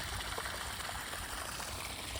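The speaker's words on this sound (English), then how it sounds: "that's the main outfall that all of those lateral drains drain into, and that's the volume of water." Rainwater gushes out of a main drainage outfall fed by lateral drains on a park course, a steady loud rushing flow close by with no pauses and no voices.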